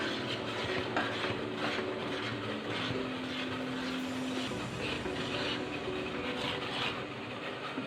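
Fermented idli batter is stirred in a metal vessel after eight hours of rising, a continuous close scraping and sloshing with light clinks of the spoon against the pot.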